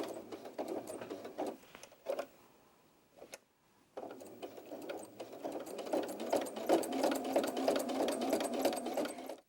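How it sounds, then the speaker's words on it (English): A sewing machine top stitches close to the edge around a baby shoe upper, running in rapid bursts with a short pause partway through, close and fairly loud. "I'm going to go ahead and top stitch around the outside again, just to make sure that that top seam stays in place"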